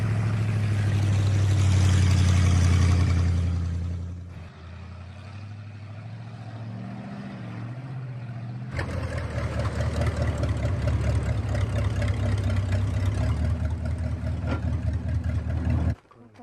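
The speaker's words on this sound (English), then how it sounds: "Don Martin takes his and Wilfredo's harvest back to the village on his 1952 Dodge Transporter." A heavy 1952 Dodge Transporter truck engine rumbles steadily throughout, with a deep low drone that shifts in pitch as it idles and revs.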